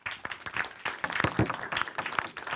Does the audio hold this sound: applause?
yes